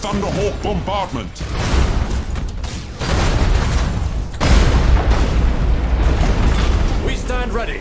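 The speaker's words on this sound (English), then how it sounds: "Initiate Thunderhawk bombardment." Thunderhawk bombardment explosions in the space strategy game Battlefleet Gothic Armada 2: a dense, continuous barrage of loud rumbling booms that swells in waves, with faint game voices at the start and end.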